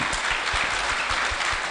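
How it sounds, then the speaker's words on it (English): Audience applause at a women and girls in cybersecurity session in Lilongwe, Malawi: a dense, steady wash of many hands clapping together, sustained throughout with no voices standing out. "So a big round of applause for our ladies"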